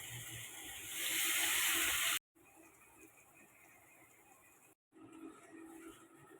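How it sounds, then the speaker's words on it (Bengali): Water poured into a pan of fried spice paste for a Bengali bata fish curry with potato and eggplant: a loud rushing hiss for about two seconds, then a quieter steady bubbling with brief breaks, no talking. "আমি জল দিয়ে দেবো।"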